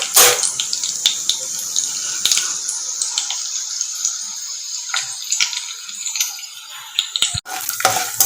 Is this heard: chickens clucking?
no